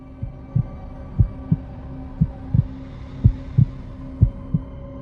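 A low, thumping heartbeat, pairs of dull beats repeating at a steady pace over a faint hum.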